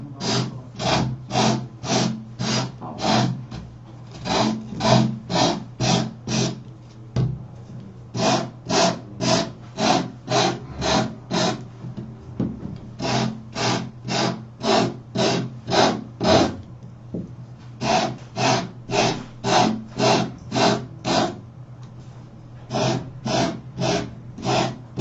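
Sandpaper is rubbed by hand over a box in steady rapid strokes, grouped into bursts of several back-and-forth scrapes with short pauses between them. The rasping is close, loud and even, with no voices.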